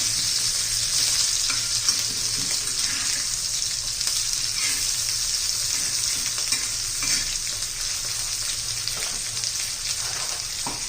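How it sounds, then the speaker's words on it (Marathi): Green chilies sautéing in a hot pan give off a loud, continuous sizzle, with soft stirring scrapes scattered through it and no talking. "आता पण मिरची आपल्याला चांगली परतून झालेली आहे"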